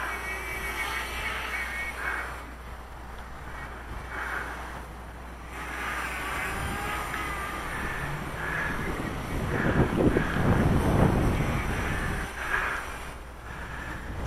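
High gusting wind buffeting the microphone outdoors while a drone is flown, a continuous low rumble that swells and fades, with a faint motor whine and a louder gust near the end.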